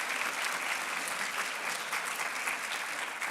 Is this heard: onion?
no